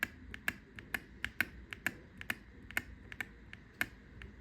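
Sharp, irregular clicks of mechanical keyboard switches with a hint of Wooting chatter, pressed at a steady typing pace, close and clear over a quiet background.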